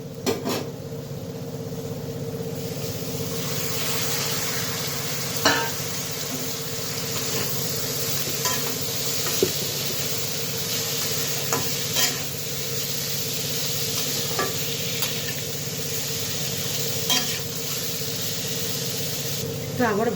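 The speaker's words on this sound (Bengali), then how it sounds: "তো এখন লতিগুলো ছেড়ে দেব।" Taro stolons (loti) fry and are stirred in a pan with jackfruit seeds, a constant hissing sizzle broken by scattered utensil clicks and scrapes while a voice talks intermittently over it.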